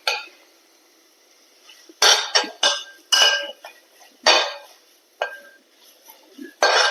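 Tomato and onion cooking in a pan, with a metal spoon repeatedly scraping and clinking against the pan in short, sharp, close bursts separated by quiet pauses.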